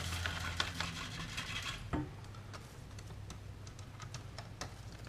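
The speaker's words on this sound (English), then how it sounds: "You take the powder, adding it to the milk, just stir all the time." Almond pudding powder is stirred into milk in a pot, a faint, soft scraping with light ticking taps that fade after a louder clink around the two-second mark; no one talks.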